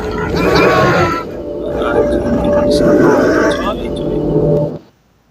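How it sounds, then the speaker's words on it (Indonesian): Wolves from the horror game Eleusis give loud, sustained growling howls over a steady droning tone for about five seconds before cutting off abruptly. "Ada suara serigala ya."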